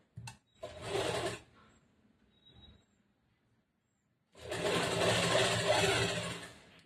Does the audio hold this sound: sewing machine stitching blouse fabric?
yes